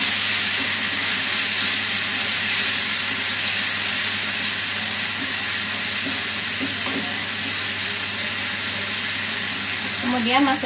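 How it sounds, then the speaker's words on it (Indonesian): Ground shallots and garlic sauté with chili in a hot pan, giving a loud, steady oily sizzle that runs unbroken from start to finish. "tumis bawang yang kita haluskan tadi bersama cabe"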